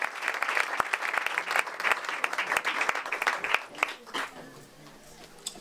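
Applause from a live audience after two songs at a performance, dense rapid clapping that fades out over the last second and a half, leaving quiet room tone.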